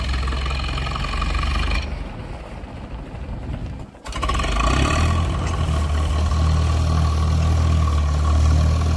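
A 1964 J I Case 830 tractor engine runs at a steady low idle, with a brief dip in the middle before the rumble returns slightly louder.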